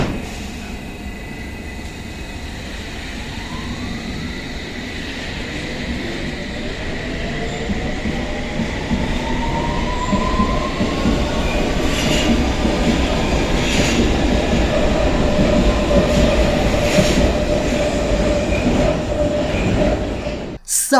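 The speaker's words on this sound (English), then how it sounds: "here's the S train accelerating at its former old slow acceleration" NYC subway S train accelerating slowly, a continuous loud roar of wheels and motors with a gradually rising electric whine, plus occasional clicks of rail joints.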